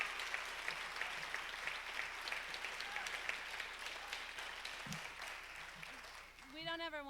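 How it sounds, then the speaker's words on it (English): Audience applause at a farewell concert at the Grand in Nashville, sustained clapping that fades slightly, with a voice coming in over it near the end. "give her a huge round of applause"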